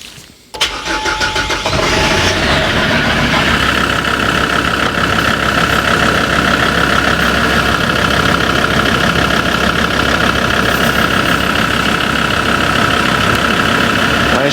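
A car engine starts, then settles into a steady, loud, even idle, running continuously up close while the automatic gearbox oil level is checked.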